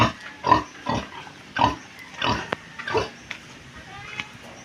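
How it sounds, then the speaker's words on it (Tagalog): Pigs grunting and breathing hard on a hot day at a farm, a series of about eight short rhythmic huffs and oinks at close range, each roughly half a second apart, with faint background noise between. "sobra po ng init hinihingal po ang baboy"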